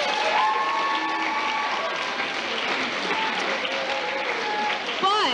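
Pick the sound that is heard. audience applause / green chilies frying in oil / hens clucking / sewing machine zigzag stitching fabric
audience applause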